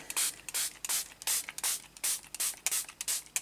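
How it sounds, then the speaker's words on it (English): Homemade spray made from marker ink is misted onto a junk journal page in quick, sharp hissing bursts, about a dozen close pumps in a fairly regular rhythm with brief pauses between them. "Okay, so I'm going to spray this"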